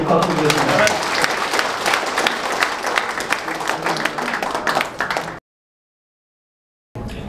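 Audience applause for bereaved family members at a Vietnam War veterans' 58th anniversary ceremony and unity rally, a steady dense clapping for about five seconds that cuts off abruptly into silence, then resumes briefly near the end.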